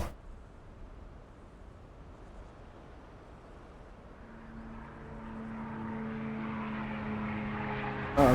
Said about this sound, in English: start up the aircraft without the help of the instructor and taxi to the end of the runway